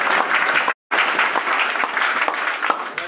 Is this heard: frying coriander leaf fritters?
no